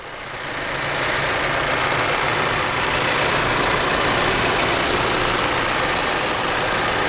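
A 2019 VW Jetta SEL Premium's 1.4-liter turbo engine idles with a steady, broadband mechanical hum and whir, close and continuous under the open hood, with no talking.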